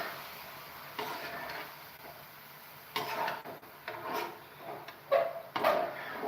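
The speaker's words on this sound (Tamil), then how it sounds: "எண்ணெய் கடுகு உளுந்து கடலைப்பருப்பு பச்சை மிளகா கருவேப்பிலை தாளிச்சிட்டு" Mustard seeds, urad dal, chana dal, green chilli and curry leaves are tempered in hot oil, giving a soft sizzle with scattered pops and the scrape of stirring in a pan, close by and with no talking.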